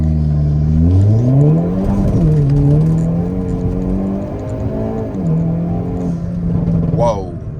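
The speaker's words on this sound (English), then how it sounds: "we're gonna go ahead and do a 0 to 60 pull as soon as this light turns green." A Hyundai Kona N pulls hard from a stop light toward 60 mph, its engine revving up through the gears with loud rising sweeps, while a person talks over the run.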